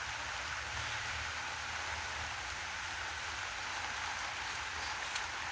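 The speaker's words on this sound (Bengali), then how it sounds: "পুকুরে বৃষ্টি হচ্ছে" Monsoon rain falling on a village pond in rural Bangladesh, a dense, even patter of drops hissing steadily throughout at moderate distance, with no voices.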